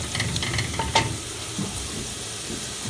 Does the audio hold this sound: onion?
yes